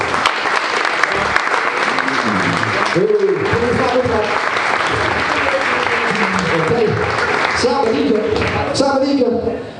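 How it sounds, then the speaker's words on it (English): Loud sustained audience applause at an awards ceremony fills the room, with voices and a few cheers rising through the clapping throughout. "Can we please have a massive round of applause for Mr. Ben Ali?"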